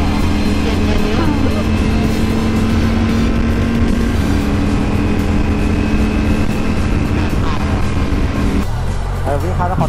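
A car is driven fast on a trip around Nakhon Nayok, its loud engine roaring steadily with broadband road and wind noise, shifting tone near the end; voices talk over it.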